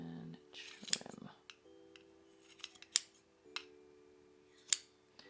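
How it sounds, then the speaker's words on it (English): Scissors snip excess macrame cord on a Christmas ornament, a few sharp, close cuts spaced apart over a faint background hum. "just bring it up against the edge and trim"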